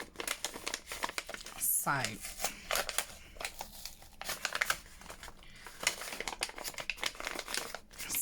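A paper envelope handled during a folio lapbook craft project, with close crinkling, crumpling and sharp tearing-like rustles throughout, plus a brief spoken word.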